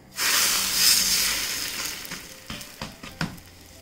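Wheat butter naan laid onto a hot pan gives a sudden loud sizzle that hisses steadily, then fades, with a few soft taps and crackles near the end.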